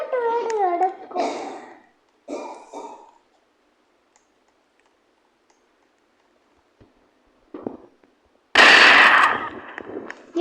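Gunfire in the video game Dead Rails: a short shot, then a louder, harsher burst near the end, after stretches of near silence and some earlier voice-like game sounds.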